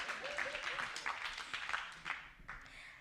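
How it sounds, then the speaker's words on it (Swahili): Faint clapping from a church youth gathering, a scattered patter of hands at a distance with some voices mixed in, fading near the end. "Oh, aya, tumpigie makofi."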